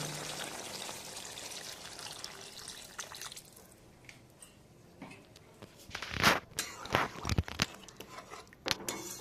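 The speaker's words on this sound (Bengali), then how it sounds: "আমি এখানে দেব পরিমাণ মতো জল" Water is poured into a pan of spiced potato and eggplant for a Bengali hilsa fish curry, giving a soft steady rush at first and then louder splashing bursts near the end, close to the listener.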